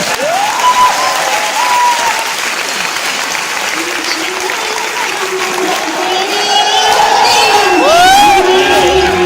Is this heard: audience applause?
yes